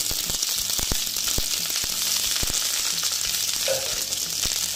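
Cauliflower and beans sizzle in a hot pan, with a steady frying hiss running throughout and close, irregular scraping clicks as the vegetables are stirred.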